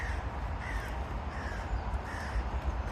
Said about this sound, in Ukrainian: пташки